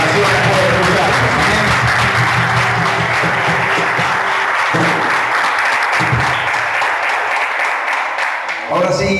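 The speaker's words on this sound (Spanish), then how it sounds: "vamos a dar un fuerte aplauso para que la gente de las naciones pueda escucharnos" A church congregation claps loudly and continuously through the whole stretch, a thick sustained wash of applause, with a voice and music sounding underneath.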